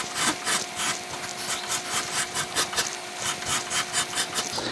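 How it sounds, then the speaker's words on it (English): A Shinto rasp carves a wooden guitar neck in steady back-and-forth strokes, a rhythmic scraping and rasping that stays close and loud throughout with no talking. "Now all I'm going to do is just use my Shinto rasp and start taking away some material"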